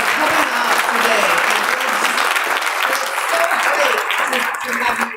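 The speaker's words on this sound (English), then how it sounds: "Let's give them a big round of applause again for coming out today." An audience at a humanist community gathering applauds the speakers, a dense, loud, sustained clapping from a roomful of people that carries on without a break and eases slightly at the end.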